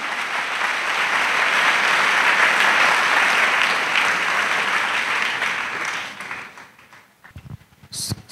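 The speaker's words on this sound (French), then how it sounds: "if you want to clap for Jesus, clap" A church audience claps for Jesus in a sustained, dense burst of applause that holds steady for about six seconds, then thins out into a few scattered claps.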